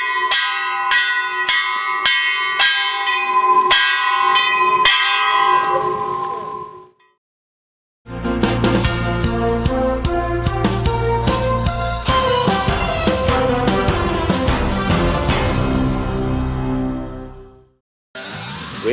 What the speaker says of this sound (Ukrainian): голос церковних дзвонів Спасо-Преображенського храму кличе до нашого духовного